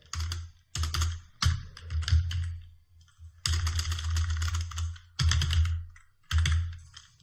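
Computer keyboard typing in bursts, fast clusters of crisp key clicks separated by short pauses, close and clear with no talking.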